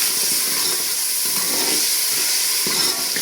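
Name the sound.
water poured into frying spices, sizzling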